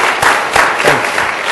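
Audience at a business panel session clapping for the panelists, a short burst of applause with a few distinct louder claps, close and fairly loud.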